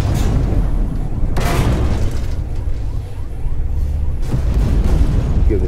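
Tank cannon fire and shell impacts around a Vickers MK7 main battle tank in a video game, with two sharp booms over a constant loud engine rumble and no talk.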